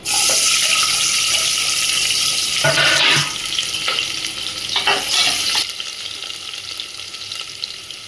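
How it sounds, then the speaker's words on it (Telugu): Onions and spices fry in hot oil in a pan with a loud, dense sizzle that is strongest at first, then eases a little as stirring scrapes and clatters come through, and no voice is heard. "ఇవి కొంచెం ఫ్రై అవనిచ్చి, ఈ విధంగా ఫ్రై అయిన తర్వాత మనం ఆనియన్స్ యాడ్ చేసుకుందామండి."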